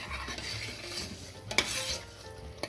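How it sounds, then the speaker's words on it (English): Onions fry with a gentle sizzle, with stirring scrapes and light clatters of a utensil against a pan, steady and close. "That's the kind of sizzling that you want to be able to hear and see."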